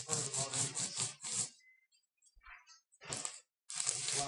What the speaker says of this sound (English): Measure and trim PlastiSpan rigid insulation with a utility knife or fine-tooth handsaw, such as a keyhole type or drywall saw